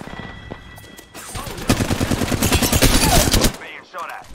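Rapid bursts of automatic gunfire from an Apex Legends match rattle loudly for about two seconds, dense overlapping shots, then cut off into quieter game effects.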